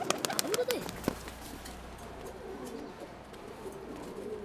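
Pigeons at a dove house coo softly in low, rolling calls, with a few sharp clicks and rustles at the start, then continue as faint cooing under a steady ambient hiss.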